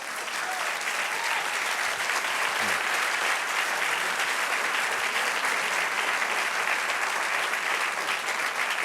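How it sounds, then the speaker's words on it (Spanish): A church congregation applauds steadily and loudly during a Spanish-language worship service, the dense clapping sustained evenly without a break for the whole stretch. "dale aplausos y apláudelo"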